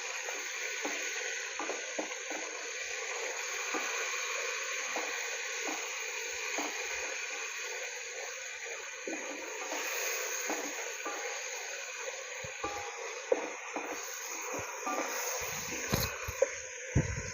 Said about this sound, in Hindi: तेज़ आंच पे पकाएंगे, इससे हमारा चिकन जूसी भी रहेगा।